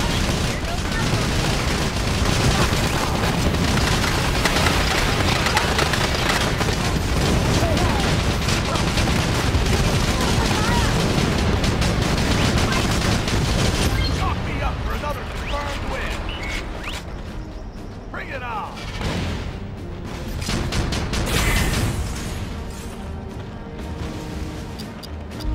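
Sustained gunfire and explosions as enemy gunships are shot down in the GameCube video game Battalion Wars, a dense, loud barrage of rapid shots and booms under a speaking voice, thinning out near the end.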